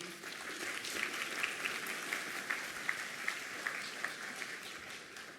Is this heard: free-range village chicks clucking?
no